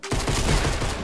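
A burst of gunfire in the battle royale game Fortnite, from a hunting rifle, loud and dense, filling a brief second with no talk.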